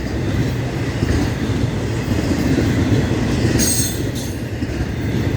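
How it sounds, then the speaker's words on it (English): A long intermodal freight train rolls past nearby, a continuous loud rumble of wheels on rails with clacking and brief squeals, steady and unbroken. "Oh boy, long train today."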